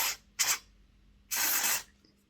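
Three quick spray bursts of cleaner hit a Bachmann model train gear: two short hissing puffs followed by a longer, fuller spritz, close and crisp against near silence.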